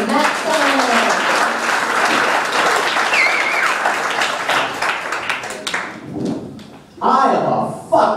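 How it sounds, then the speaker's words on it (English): A comedy club crowd at Broadway Comedy Club applauds loudly and steadily for the next comic coming to the stage, then the clapping thins and dies out near the end, with brief bursts of talk and noise after. "Start clapping, everybody, for Matt Simon."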